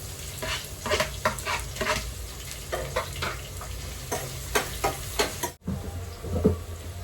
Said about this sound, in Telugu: ఆనియన్ వేసిన తర్వాత కరివేపాకు వేసేద్దాం